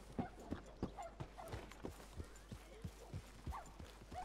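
A horse ridden in a video game clip-clops at a steady rhythmic trot, the hoofbeats moderately close but quiet under low background ambience.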